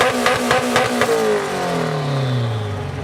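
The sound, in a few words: cars driving in at a car show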